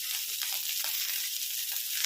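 Dried and green chillies with garlic cloves fry in hot oil, giving a steady, close sizzling hiss with no talking over it.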